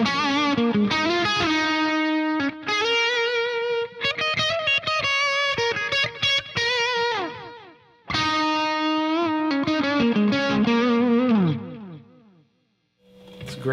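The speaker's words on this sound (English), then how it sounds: "I'm set up in stereo, so you're getting two tape echoes happening in stereo" An electric guitar plays through a Source Audio Collider pedal set to stereo tape echo delay, with distorted, repeating notes trailing in loud, sustained phrases and a short gap near the end.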